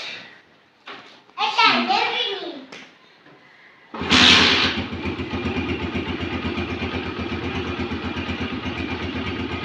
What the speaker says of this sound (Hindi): मोटरसाइकिल को कर रहे हैं ऐसा स्टार्ट।